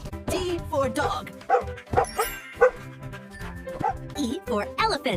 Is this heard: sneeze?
no